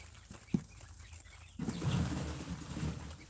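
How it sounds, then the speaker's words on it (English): Spooked quail scrabble and flutter inside a large bin, a sudden burst of scratchy, rustling commotion that kicks in partway through and carries on at moderate loudness after a quieter stretch with one sharp knock. "my other quail just got spooked if you heard a bunch of noise in the background"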